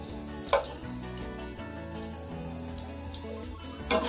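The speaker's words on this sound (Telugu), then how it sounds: "ఆయిల్ వేడెక్కిన తర్వాత ఈ అలసంద వడియాలని వేసేసుకొని ఫ్రై చేసుకుంటున్నాను" Cowpea papads (alasanda vadiyalu) deep frying in hot oil give a steady soft sizzle and bubbling, with a few sharper crackles and pops standing out close by.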